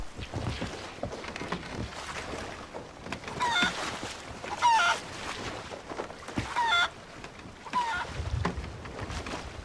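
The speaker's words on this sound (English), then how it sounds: "You've actually brought a chicken on board." A chicken kept aboard a boat clucks and squawks in several short bursts spread through the clip, over rough, windy background noise on the water.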